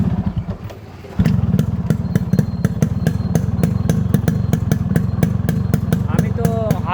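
Modified Yamaha RX 100 motorcycle engine kicked into life by hand, catching after a second of quiet and settling into a loud, close, rapid two-stroke idle with sharp rhythmic pops throughout; a voice briefly chirps near the end.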